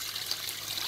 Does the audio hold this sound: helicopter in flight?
no